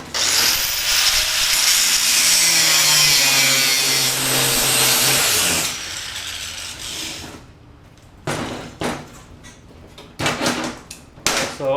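A power tool trims a steel plate for a time attack roll cage, a loud continuous grinding cut for about six seconds, then quieter scraping and short bursts of handling noise on the metal.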